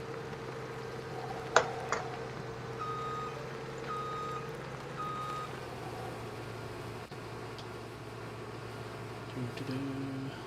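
In Farming Simulator 17, a dump truck's reversing alarm sounds three evenly spaced beeps over a low, steady engine drone. A couple of sharp clicks come early, and faint tones follow near the end.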